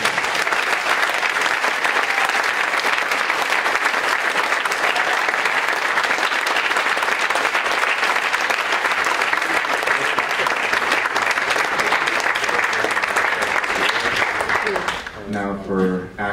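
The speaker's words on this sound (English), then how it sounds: "give a round of applause for our speakers" An audience gives speakers sustained applause, dense continuous clapping from a large crowd that holds steady and loud for about fifteen seconds before tapering off abruptly.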